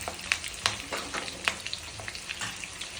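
Coriander seeds and curry leaves sizzle in hot oil for tomato chutney, a close crackling fry punctuated by sharp pops and spits at irregular intervals over a continuous hiss.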